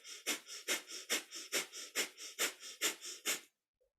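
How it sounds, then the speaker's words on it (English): Rapid, rhythmic breath-of-fire breathing through the nose during a kundalini yoga session: about fourteen quick, forceful, evenly spaced huffs, loud and close, with no talking, ending abruptly in silence. "it's the panting breath"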